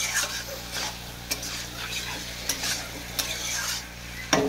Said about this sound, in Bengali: তিনটে একসাথে আবার একটু কষে নেবো